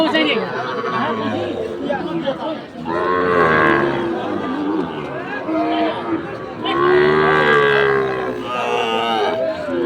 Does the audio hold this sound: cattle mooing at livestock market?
yes